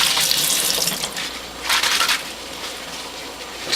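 Cloths soaked with cantaloupe juice pulp get scrubbed in cold water, giving a close wet rubbing and sloshing sound that swells in a few bursts, with no voices.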